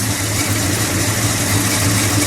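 A 1970 Dodge Dart Swinger's 340 V8 engine idles steadily at close range, a low, even rumble that holds constant throughout with no revving.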